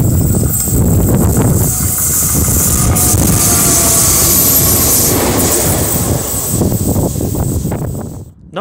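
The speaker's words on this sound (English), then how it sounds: "Turned out to just be DLs 9607 and 9354 without any wagons." KiwiRail DL locomotives 9607 and 9354 run light without wagons on train 334 in Tauranga, a loud rumbling roar with rhythmic wheel clatter that holds close and steady, then drops away sharply at the end.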